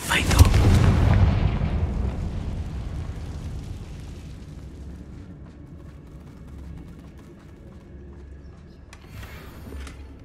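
A Confringo spell explosion in the Hogwarts Legacy video game, one loud close blast that decays into a long rumbling tail fading over several seconds, with a faint voice in the background.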